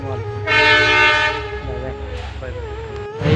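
A train rolls past a lowered railway crossing gate at dusk, its horn blaring loud and close in a long sustained blast, then continuing with fainter horn tones over the rumble of the wagons.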